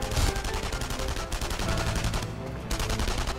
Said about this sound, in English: Oh no, they're shooting it.